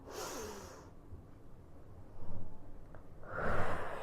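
Audible breaths during a gentle exercise routine: a breathy exhale at the start, a quiet pause, then a strong, close inhalation near the end, with no talking.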